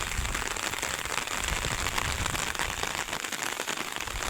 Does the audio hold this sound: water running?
no